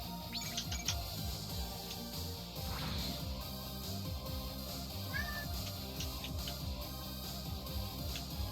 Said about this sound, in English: Everyone can hear you, Cat.